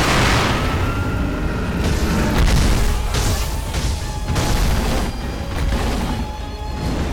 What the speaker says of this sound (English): I have firecrackers